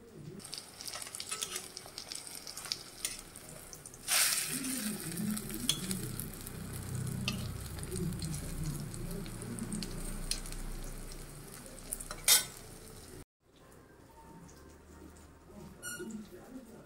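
Banana flower fritters fry in hot oil, a continuous close sizzle with scattered crackles and a few utensil knocks before the sound drops away near the end.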